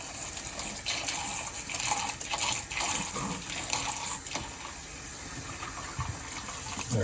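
Water gushes from a tap into a container while dish soap is added to soak Minimoog synthesizer keyboard parts, a steady close filling rush with slight shifts in flow, no talking.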